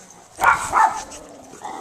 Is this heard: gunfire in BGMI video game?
no